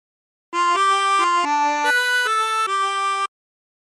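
A harmonica plays a short phrase of a song, alternating blow and draw on hole 6. Eight or so clean, sustained notes come close and clear after a brief silence, with no talk.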